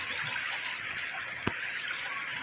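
Irrigation water from Pantabangan Dam rushes through a farm channel in Nueva Ecija, a steady broadband gush heard close and loud without pause, with a single brief knock partway through.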